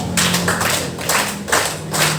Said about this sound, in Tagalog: 5 palakpak para kay Yuribel